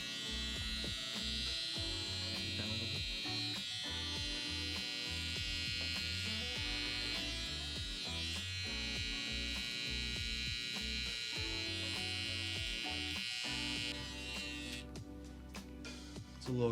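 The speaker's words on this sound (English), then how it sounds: "flip my clipper to clean up this lower line" Electric hair clippers hum steadily while cleaning up a lower line in a freestyle hair design, a close, continuous buzz with small shifts in tone as the blade moves, no talk over it.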